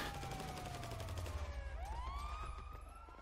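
Police fire on the player in GTA 5 Online, a steady rapid crackle of gunshots that runs throughout. Wailing police sirens rise and fall over the shooting at a loud, close level.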